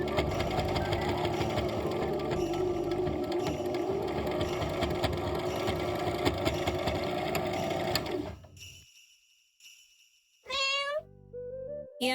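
Sewing machine stitching folded plush ear and paw pieces onto a face piece for a small keychain plushie, running steadily for about eight seconds, then stopping, with a few brief cat meows near the end.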